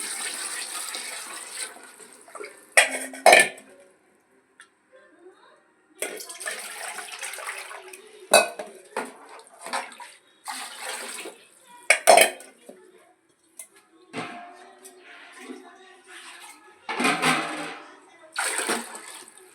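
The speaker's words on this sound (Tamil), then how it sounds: "சிக்கன் ½ வேக்காடு வெந்துடுச்சா, தண்ணி ஊற்றிக்கலாம்." Water is poured into a cooking pot of half-cooked chicken for biryani in several bursts, separated by clinks of metal utensils and pans, close by in a quiet kitchen.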